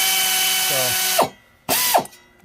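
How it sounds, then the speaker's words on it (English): Loosening spark plugs on a 1999 Chevy Tahoe, a hand ratchet gives a loud, close run of rapid clicking. It stops, then comes back in a second short burst of clicks. "this ratchet's strong enough, I don't even have to break them loose"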